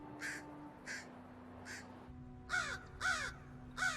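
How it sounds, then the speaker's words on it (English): Crows caw repeatedly, three evenly spaced calls followed by three louder, harsher caws, fairly close over a steady low background hum with no talking. "Scientists have identified over 250 distinct crow calls."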